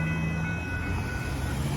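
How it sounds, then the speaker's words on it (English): A northbound BNSF grain train passes a crossing on Dittmar Road in south Austin, Texas, giving a steady low rumble of rolling cars and a faint sustained tonal whine, heard alone without talk. "there goes that BNSF grain train going through here"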